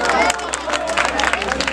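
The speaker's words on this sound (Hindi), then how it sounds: "जोरदार तालियां बजाकर सिर्फ मुझे इजाज़त दे दें" Audience applause and clapping at an All India Mushaira poetry gathering in Sudhiyamau, a steady dense crowd sound filling the short moment without pause.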